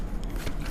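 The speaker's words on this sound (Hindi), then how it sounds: "जब तक मैं शफल कर रही हूँ उनके बारे में सोचिए।" Tarot cards being shuffled by hand, a steady papery riffling and sliding that runs close and continuous through the short moment.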